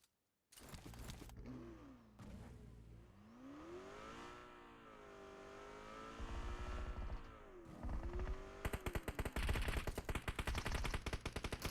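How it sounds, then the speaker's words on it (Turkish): Machine-gun bursts and a vehicle engine revving during a PUBG Mobile match on the Erangel map, with warbling engine tones early, then increasingly loud rapid automatic gunfire toward the end, no talk. "Karşı tarafta da çatışma var."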